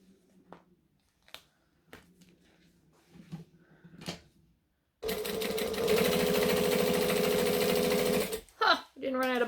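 A sewing machine top stitching runs in a loud, steady, rapid mechanical whir for about three seconds after a stretch of quiet handling clicks and fabric rustles, then stops with a few short bursts.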